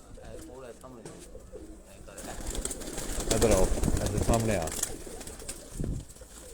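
Pigeons cooing among a keeper's flock at a Pakistani pigeon-flying gathering, soft repeated coos heard close by beneath a man's spoken calls and other voices.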